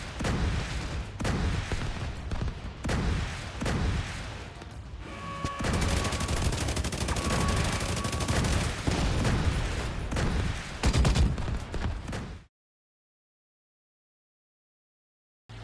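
Video game gunfire aimed at a target, bursts of repeated loud shots and heavy impacts in dense volleys, close and forceful, cutting off abruptly into silence near the end.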